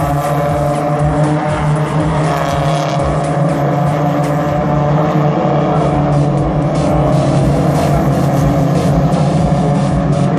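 Hyundai Excel race cars on a circuit, engines droning loud and close in a continuous pack, with revs shifting as cars jostle and pass.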